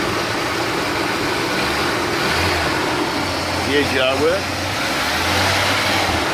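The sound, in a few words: Ford ZK Fairlane six-cylinder car engine revving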